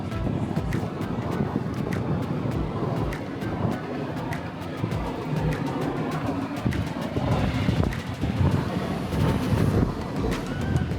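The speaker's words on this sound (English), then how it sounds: "The front's a little bit more windy, obviously" Strong wind buffets the microphone on the open front upper deck of the Royal Caribbean cruise ship Independence of the Seas, a steady loud roar with low rumbling gusts and no clear talk.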